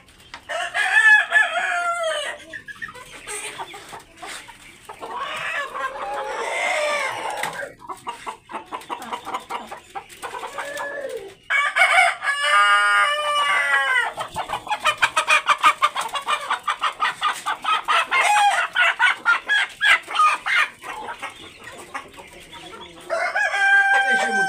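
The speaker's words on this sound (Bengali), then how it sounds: "এখন মুরগি দেখাবো" Hili hill chickens and a rooster on a farm, crowing repeatedly and clucking loudly at close range, with dense overlapping calls filling the air and no talk.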